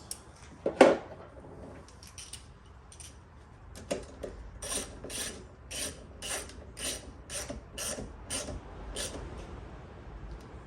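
A 10 mm wrench or ratchet works a bolt on a BMW F10 M5. A loud clank comes first, then a steady run of about a dozen close, crisp ratcheting clicks in even rhythm.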